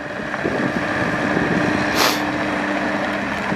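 A 2021 Bobcat T66 skid steer loader with a 74-horsepower engine and 2,258 hours runs at raised throttle in a steady, close mechanical drone, broken by a brief sharp hiss of air about midway.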